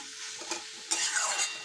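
Potatoes and flat beans being stir-fried in a pan with spices and a pinch of sugar, a steady close sizzle broken by a few scraping stirs of a spatula against the pan.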